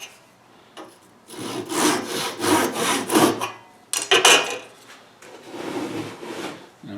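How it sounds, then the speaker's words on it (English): A handsaw cutting wood on a bench hook for a wooden electronics tool box, rapid rhythmic rasping strokes in a close burst, a brief pause, then another short run of strokes. "we're going to use our bench hook and a handsaw"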